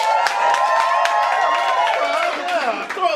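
Audience at a Naked Peacocks improv comedy show clapping and cheering with enthusiasm, a dense, steady burst of applause with whoops and shouted voices, near and loud throughout.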